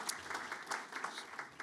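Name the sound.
audience applause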